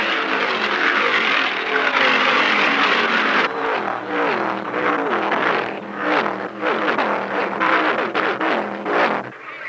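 Stock race cars roar off at a restart in the 1975 Permatex 300, their engines rising and falling in pitch as the pack accelerates past, loud and continuous from start to finish.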